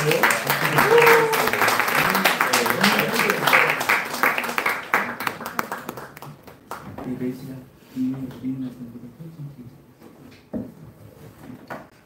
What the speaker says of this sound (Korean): 우리 격려의 박수로 우리 박수까지 하고